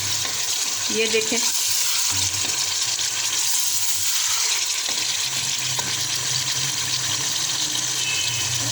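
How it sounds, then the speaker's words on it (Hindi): Spinach frying in hot oil alongside chicken for palak chicken, a constant sizzle with stirring scrapes and clatter, while a voice speaks briefly near the start. "अब हम पालक फ्राई करते हैं"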